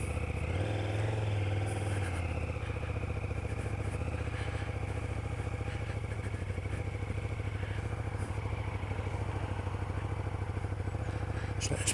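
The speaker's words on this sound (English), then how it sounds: "Nice sound from the standard exhaust." A 2020 KTM 1290 Super Duke GT motorcycle runs steadily while riding, stock exhaust throbbing, a continuous mid-pitched rumble with some light mechanical clatter throughout.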